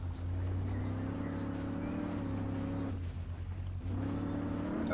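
Chevrolet Suburban GMT400 engine purring in the Spin Tires off-road game, a steady low hum that idles on, dips briefly and picks back up, moderately quiet with no talking.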